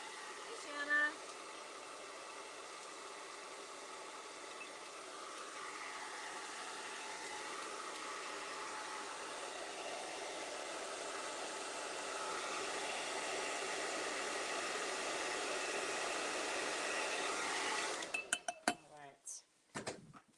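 A blow dryer drying paint runs as a continuous whooshing hiss for most of the stretch and grows slightly louder midway. A light clink comes near the start, and it shuts off with a few knocks at the end.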